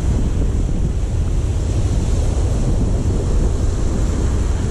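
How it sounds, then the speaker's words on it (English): On the coast at Pennington, a breeze buffets the microphone in a steady, loud rumble, with a constant wash of surf underneath and no pauses. "As we speak, there's a slight breeze."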